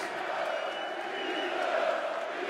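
Steady broad roar of a darts crowd at the 2012 Players Championship final, Taylor versus Huybrechts, a continuous murmur of voices and cheering filling the hall without pause.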